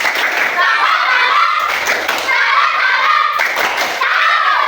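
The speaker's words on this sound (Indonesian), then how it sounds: "Sekali lagi, tepuk salut." A fourth-grade class repeats the 'tepuk salut' clapping routine, many small hands clapping briskly in unison with a few thumps and taps, children's voices chattering underneath, loud and close.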